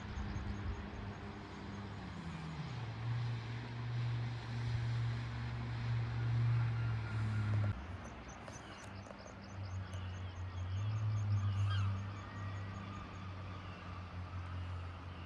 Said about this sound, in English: there's a jet skier just arrived which will probably disturb them all